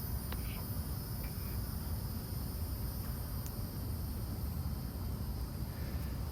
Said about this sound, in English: how bad it is that the crickets are loud